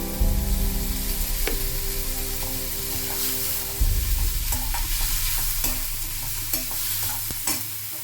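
Tomatoes, onion, turmeric and salt sautéing in a pan for a Bengali moong dal with fish heads, giving a steady close sizzle with repeated scraping stirs throughout, no talking.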